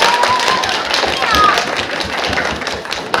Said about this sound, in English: Give Apollo a round of applause.